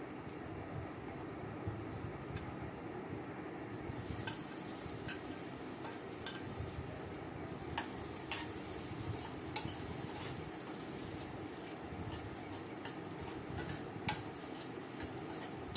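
Boiled potato with green chilies being sautéed in a pan for sabudana khichdi, giving a steady soft sizzle with occasional light ticks and scrapes of stirring, moderately quiet and alone.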